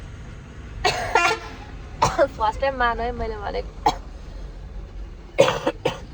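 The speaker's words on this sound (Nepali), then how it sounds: "खोकी लागेर मन नाडेको छ" A child coughs several times in short bursts, mixed with children's voices speaking in a home setting.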